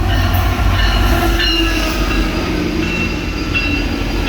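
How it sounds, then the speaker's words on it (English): A commuter train arrives at a platform at Union Station, rolling loudly and steadily nearby, wheels rumbling and squealing faintly against the rails. "That might only be a 10-coach train"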